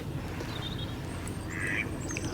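Ducks quack at Woodland Lakes, a fishing lake, near an aerator, giving a few brief, fairly distant calls over a constant rushing background of water and wind.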